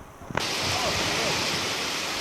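Cradle Brook on a foggy, rainy coastal footpath, a loud broad rush of flowing water that starts abruptly after a brief quieter moment and continues steadily up close.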